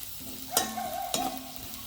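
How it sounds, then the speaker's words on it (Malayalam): Onion, green chilli and curry leaves sauté on low heat in a pan for an egg curry with coconut milk. A steady soft sizzle runs throughout, broken by two sharp clinks of a stirring spoon. "സവാളയും പച്ചമുളകും കറിവേപ്പിലയൊക്കെ ഒന്ന് വഴറ്റിയെടുക്കാൻ വേണ്ടി ഞാൻ സ്റ്റൗ സിമ്മിലാണ് ഇട്ടിരിക്കുന്നത്"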